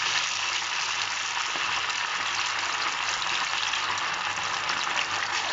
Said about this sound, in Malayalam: ഞാൻ ഇത് ഡീപ്പ് ഫ്രൈ ചെയ്യാൻ പോവാണ്.